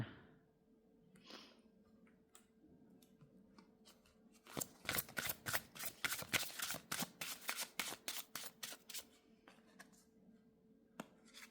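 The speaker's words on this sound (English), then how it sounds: "Alright, getting started on shuffling." Tarot cards shuffled by hand in a quiet room: a few soft handling sounds, then a long run of crisp, rapid riffling bursts in quick rhythm, close and clear, tapering into scattered taps.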